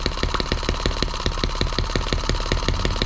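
A Chinese M17B engine runs at about 2,000 RPM, giving a loud, close, steady rapid firing pulse with a buzzy mechanical drone throughout.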